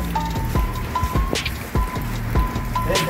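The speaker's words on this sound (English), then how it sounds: "Yeah, it's raining." Rain falling outside a new home in South Africa, heard as a steady patter with scattered louder drips and splats close by, continuous through the whole stretch without voices.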